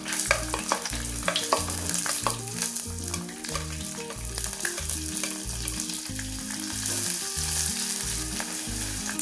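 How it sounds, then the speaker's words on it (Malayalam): Ginger, green chili and garlic sizzle and fry in hot oil with whole spices, a steady close sizzle broken by stirring scrapes, with a rhythmic background pulse and no talking. "ഇതെല്ലാം എണ്ണയിൽ മൂത്തതിന് ശേഷം ഇഞ്ചി, പച്ചമുളക്, വെളുത്തുള്ളി ചേർക്കാം."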